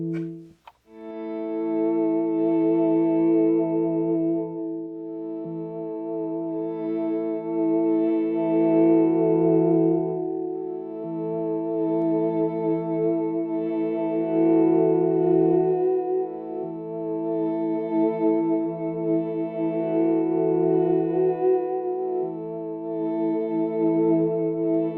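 Chase Bliss Audio MOOD MK II looper pedal playing back a looped, overdubbed guitar phrase, with sustained layered tones cycling steadily and evenly without pause.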